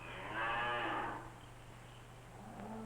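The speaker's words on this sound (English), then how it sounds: "She gives more milk than any other cow in the barn." A single dairy cow in a barn moos once, a low drawn-out call lasting about a second, followed by quiet room noise, from a 1954 film.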